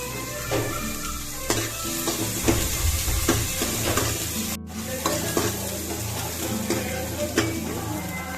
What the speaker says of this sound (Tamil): எண்ணெய் காஞ்சிருச்சு, அதனால் வந்து ஆனியன் போட்டுக்கலாம்